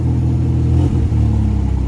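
An older Fiat car engine idling a little high, with an exhaust leak, revs up close and loud in a steady rumble that dips briefly once before carrying on, with no talking.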